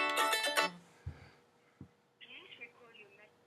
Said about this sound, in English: So I should be getting a call any second now.